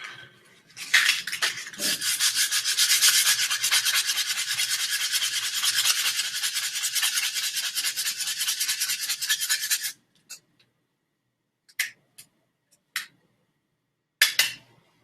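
A sandpaper carving wand rasps steadily against a surface for about nine seconds, a dense close scratching, then stops, followed by a few brief isolated scrapes and taps.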